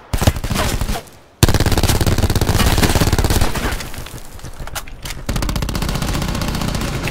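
Sustained automatic gunfire in Call of Duty Black Ops 4 Blackout, loud and dense, rattling in rapid bursts with a brief pause before the shooting resumes, layered over game sound with no talk.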